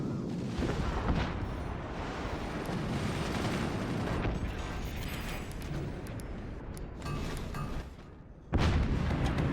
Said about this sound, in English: It's like an obvious howitzer playing forts.